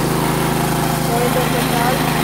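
A home paddy threshing machine runs steadily in a village, its engine giving a constant droning hum with a buzzing rhythmic pulse, close and loud without a break.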